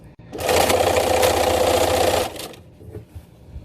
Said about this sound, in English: It's just an additional reinforced stitch, so why not? So let me take this all the way to the end